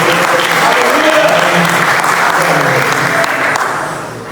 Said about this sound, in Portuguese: levante as suas mãos e aplauda Jesus bem alto